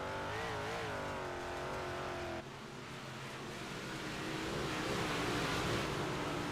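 Race cars roar around the dirt track at Charlotte, a steady engine drone that dips briefly midway then swells back as cars accelerate, heard alone without talk.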